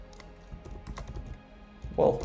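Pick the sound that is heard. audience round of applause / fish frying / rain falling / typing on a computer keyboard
typing on a computer keyboard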